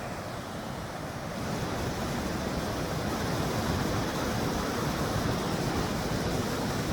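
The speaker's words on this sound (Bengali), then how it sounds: "ওয়াটারফলসটা উপর থেকে আসছে।" Bhatinda Falls, a waterfall fed by water from a dam upstream, roars as a dense, constant rush of falling water, loud and close, steady throughout with a broad, wind-like wash.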